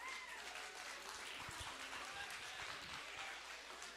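An audience at the 2025 AIM Kickoff applauds and cheers in a dense, continuous wash of clapping that stays even and fairly loud from start to finish.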